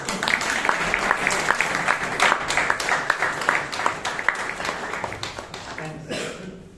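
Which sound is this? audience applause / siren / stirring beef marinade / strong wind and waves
audience applause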